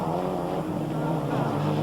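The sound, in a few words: rallycross cars racing, Ford Escort Cosworths and Mitsubishi Lancer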